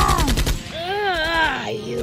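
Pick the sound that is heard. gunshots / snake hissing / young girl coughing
gunshots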